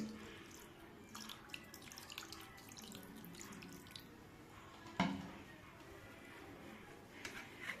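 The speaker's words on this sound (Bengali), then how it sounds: "ঠান্ডা জল দিয়ে ধুয়ে নেব ভালো করে।" Cold tap water runs over chhena being washed for mango rasgulla, a faint steady splashing trickle with small drips and a brief louder clatter midway.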